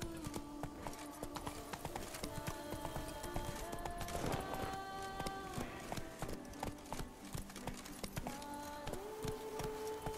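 In The Witcher 3, the horse Roach gallops in a fast, steady clip-clop of hooves throughout, close and prominent over a layer of game music and ambience.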